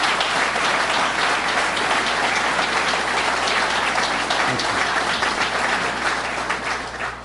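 Loud, sustained audience applause fills a hall at Governor Cuomo's statewide budget tour event in Syracuse, dense continuous clapping from a large crowd that holds steady and fades slightly at the end.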